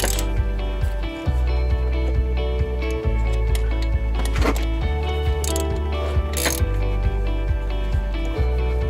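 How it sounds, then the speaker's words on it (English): Channel-lock pliers working the water pump pulley on a 2005 Ford Mustang GT while its bolts are tightened, giving steady ratcheting, grinding mechanical clicks close up over a continuous low hum, with no talk. "So I'm putting my channel locks on the pulley, and we're tightening these bolts."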